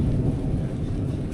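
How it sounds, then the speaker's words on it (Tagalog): Thunder from a rainstorm rumbles low and heavy over a house where roofing sheets are being fitted, a steady roar with no break and no voices. "Lakas ng kulog."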